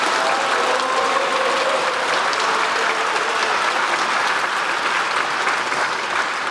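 A crowd gives the South Korean president a standing ovation, with dense, steady clapping that stays loud and continuous throughout.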